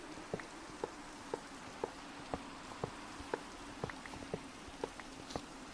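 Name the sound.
rain in video game DeceasedCraft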